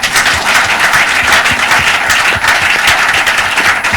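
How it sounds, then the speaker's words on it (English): Studio audience applause on a Nigerian talk programme, a steady run of brisk clapping from a small group, close and fairly loud for about four seconds. "Make una clap for him."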